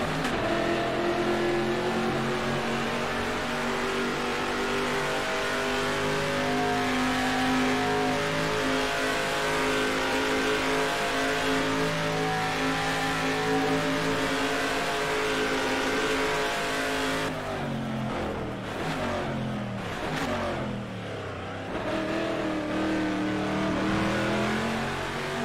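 Holden Monaro HQ race car in rFactor 2 at Bathurst, its engine roaring loud and continuous with rising and falling revs as it accelerates and brakes through corners, with tire noise.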